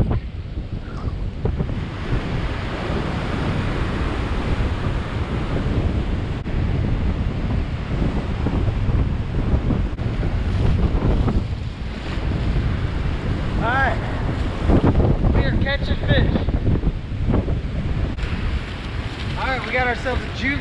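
Strong wind on Vilano Beach roars and buffets the microphone while ocean surf rumbles steadily beneath, a loud, continuous wash of noise during shore fishing, with a voice faintly present at moments.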